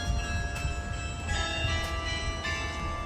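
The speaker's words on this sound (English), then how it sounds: "somebody actually ringing those bells in that tower." Church tower bells ring out with sustained overlapping tones and a few sharper strikes, heard at a moderate distance over low rumbling background noise.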